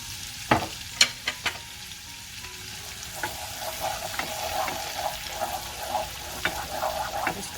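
Garlic and pepper sizzle steadily in a pan while being stirred, with a few sharp clinks of a utensil at the start and a gentle, continuous frying hiss throughout, heard close with no talk.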